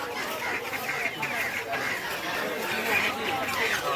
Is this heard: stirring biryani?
no